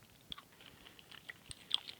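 Someone chews a very hard herb cough drop, producing a few faint, sharp crunches and clicks spaced irregularly over quiet, close to the mouth.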